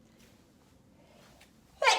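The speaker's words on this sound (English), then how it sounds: "I think I might sneeze." A single loud, close sneeze bursts out at the very end, after a couple of seconds of quiet room tone with a faint breath.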